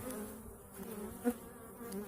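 A steady buzzing of many bees, fairly quiet and close, droning continuously with a brief louder buzz passing by.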